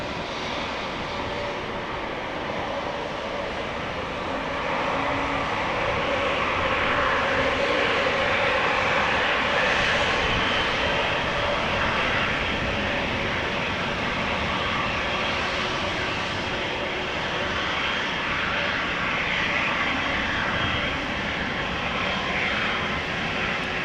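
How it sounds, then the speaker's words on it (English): An Austrian Airlines Airbus A320neo jet departs Amsterdam Schiphol for Vienna. Its engine roar is loud and steady throughout and swells slightly after the first few seconds. "we have an A320neo from Austria and yes to Europe, going back to Vienna."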